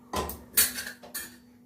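A metal tawa set down on a stove top: three distinct clanks of the pan, sharp and close, each ringing briefly before fading.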